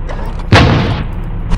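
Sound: tank cannon firing in a tank battle video game

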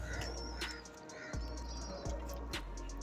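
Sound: pigeons cooing

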